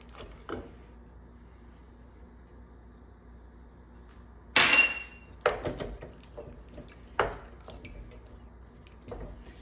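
A spoon clinks and scrapes against a pot while seasonings are stirred into cream of mushroom soup made with dried oyster mushrooms, in scattered sharp knocks and scrapes over a quiet background.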